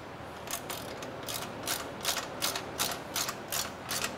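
A ratchet tightens the fasteners of a Brombacher exhaust being installed on a Porsche 991 GT3, giving a series of about ten quick clicking bursts in a steady rhythm, close and fairly quiet, with no talk.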